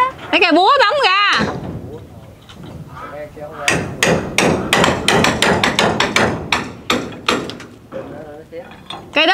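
A hammer drives nails while a leaking house roof is re-roofed on a hot day. Sharp blows come in quick, loud, close bursts and repeated runs, with people talking over and between them.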